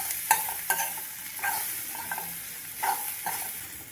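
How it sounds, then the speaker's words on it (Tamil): Grated raw plantain and fried onions are stirred in a pan over a low flame, with a utensil scraping in regular strokes about every half second over a soft, steady sizzle. "அடுப்பை சிம்மில் வச்சு கிளறி கொடுத்துக்கலாம்"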